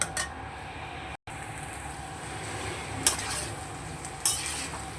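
Vegetable stems and potatoes are stirred in a pan over a low, steady sizzle, with a few sharp clinks of the utensil against the metal pan and a brief dropout partway through.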